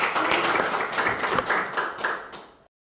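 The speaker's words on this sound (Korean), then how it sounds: "우리 하나님께 박수를 보내드리겠습니다" Applause from a church congregation during a sermon, brisk crowded clapping that holds steady for over two seconds and then cuts off abruptly into silence.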